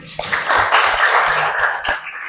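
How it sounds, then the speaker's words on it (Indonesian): Students in a classroom applauding together, a fairly loud, dense burst of clapping close by that lasts a couple of seconds, with no talking. "Oke, tepuk tangan dulu semuanya"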